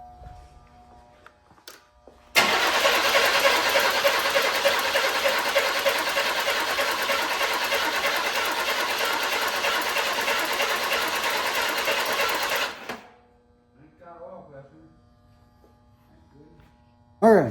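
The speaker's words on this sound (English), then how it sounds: "Let's see if this thing will start, or not start, but crank." A car engine cranks without starting, the starter motor whirring in one long steady, loud grind for about ten seconds before cutting off, with quieter shuffling and brief sounds afterward.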